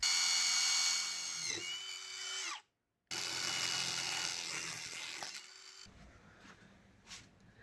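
A power drill whines at high pitch while drilling a part held in a vise, stops briefly, then runs again before slowing and winding down, with a short tap near the end.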